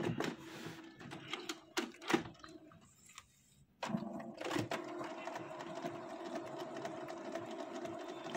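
A Canon G3430 inkjet printer runs its automatic maintenance cycle, giving close mechanical clicks and clunks, a short quiet pause, then a steady whirring motor drone with faint rattling that continues to the end.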